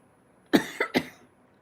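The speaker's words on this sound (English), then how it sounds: "I always get a cough at Christmas time" Three quick, harsh coughs in a row, close and fairly loud, in an otherwise quiet room.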